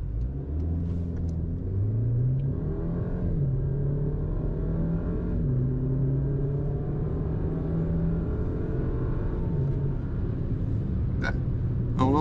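A RAM Rampage turbo pickup accelerates hard from 0 to 100 km/h, engine droning loudly inside the cabin with rising tones that drop back as gears shift, a continuous roar with no talk.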